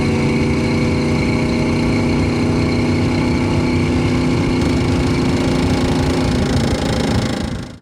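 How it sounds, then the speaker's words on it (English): A 1964 Pontiac GTO V8 pulling under heavier acceleration, a loud, steady, harmonic-rich engine drone heard from inside the car, holding strong before dropping away abruptly at the end. "A little bit of heavier acceleration for y'all."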